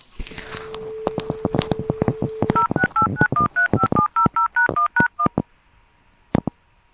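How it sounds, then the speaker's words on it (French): A steady dial tone with clicks, then a quick run of telephone keypad beeps, then a brief pulse and near silence. "Je refais sonner le téléphone."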